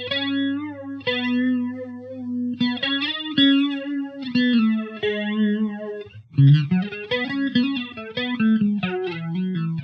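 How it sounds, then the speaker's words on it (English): An electric guitar plays through a flanger pedal on a clean amp channel with the reverb switched off, giving sweeping, swirling notes and chords in a loose, steady phrase. "I went ahead and turned off the Hall of Fame reverb so you kind of get a sense of what the flanger is"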